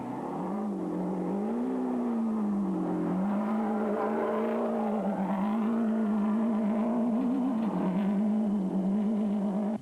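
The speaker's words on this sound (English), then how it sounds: "While Variawa started to open up the taps and let her fly." A race car in a 2007 Toyota Dealer 400 rally accelerates hard, its engine holding a loud droning note that rises and wavers with gear changes and throttle, close and continuous, no talk over it.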